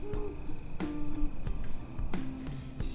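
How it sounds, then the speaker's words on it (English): Owls calling at night outdoors, several hoots and a couple of sharper screechy calls spaced a second or so apart, moderately close over a low background hum. "at night we can hear the owls hooting and screeching"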